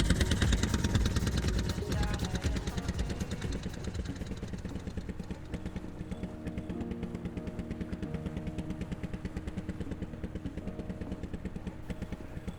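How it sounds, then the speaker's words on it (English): A make-and-break engine boat runs nearby at Battle Harbour, a rapid, even chugging putter with a rhythmic clatter that eases slightly in loudness as it continues, with no voices. "We just heard one make-and-break engine in Battle Harbour"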